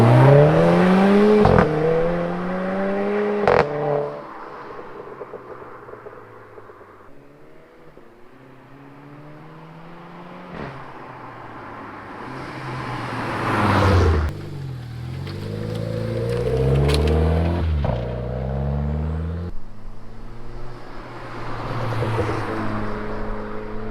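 A Renault Clio RS Trophy hatchback accelerates hard through several gears, its engine climbing in pitch with each pull and dropping at every shift, loud and close with wind and cabin noise throughout.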